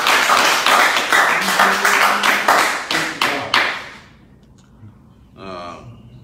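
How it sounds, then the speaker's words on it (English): Clapping from a gathered crowd honoring a donor who just gave money during a live broadcast, loud and dense for about four seconds, then tapering off into near quiet before a brief burst of voices. "Clap for him."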